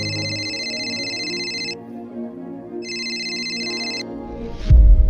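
A phone rings with a repeating electronic ringtone in two long bursts over a quiet room, placed as a call to a daughter, ending in a louder thump.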